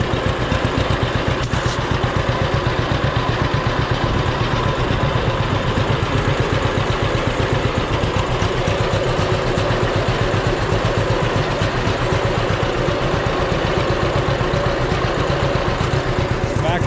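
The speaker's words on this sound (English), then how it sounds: "hope you enjoy here a little ride in the John Deere" A John Deere tractor engine runs steadily and loud throughout a ride in a potato field, with a constant low chugging drone and no clear talk over it.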